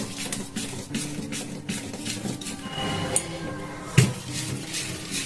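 Idli batter being beaten and mixed in a bowl makes repeated rhythmic knocks and scrapes, close and moderately loud, with one sharper clunk near the end.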